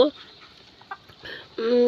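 A rooster and hens give a few short clucks and a brief louder call at close range, with quiet gaps between the sounds.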